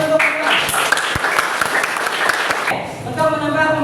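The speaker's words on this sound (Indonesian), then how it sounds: "tepuk tangan dulu untuk semua" A classroom of students claps loudly for everyone after their presentations. The rapid, dense hand claps run for about three seconds, then fade as a voice begins speaking.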